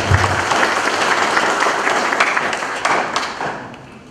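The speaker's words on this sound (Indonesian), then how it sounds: "Tepuk tangan dulu boleh" Crowd applause at an installation ceremony for a regional motorsport association's board, dense clapping that swells early, then thins into scattered claps toward the end.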